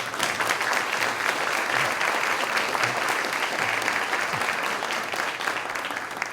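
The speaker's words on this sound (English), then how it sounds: "I think we got to give them another round of applause" A crowd at a media awards ceremony gives three honored journalists another round of applause, steady full clapping that holds at an even level from start to end.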